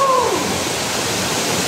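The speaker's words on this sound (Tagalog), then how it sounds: "ito na yung Walang Langit Falls." Walang Langit Falls pours steadily in a forest, a dense, even roar of falling water that fills the whole stretch with no pauses, close and constant.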